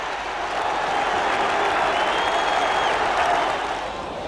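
Football crowd cheering and applauding for Everton after Sheedy's goal, a broad, steady roar of many voices and clapping that swells and holds across the stadium with no commentary over it.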